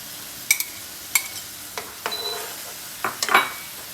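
Egg frying in oil in a pan with snake gourd, a faint background sizzle broken by several sharp clinks and scraping stirs of a utensil against the pan.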